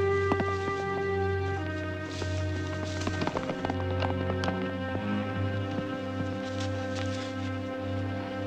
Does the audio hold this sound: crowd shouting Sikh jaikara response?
no